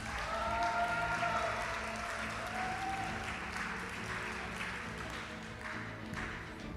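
Applause from a school audience honoring National Junior Honor Society award recipients, a steady wash of clapping throughout with a few voices and a tonal sound above it early on.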